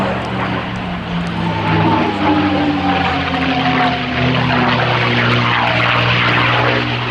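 A North American P-51 Mustang propeller fighter flies past at an air festival, its engine drone loud and continuous throughout with a steady harmonic hum that shifts pitch slightly as it passes.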